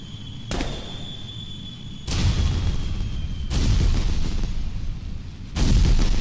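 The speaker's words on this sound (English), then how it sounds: "At least we got some nice fireworks" Loud booming bursts from a crashing craft in a video game, like fireworks going off, come in three separate waves, each a sudden heavy blast that trails into a rumbling roar.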